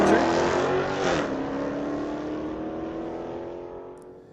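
Street-legal drag cars, including a white Audi, launching down the strip at Mission Raceway Park, a broad engine roar rising then holding steady before fading slowly as the cars pull away.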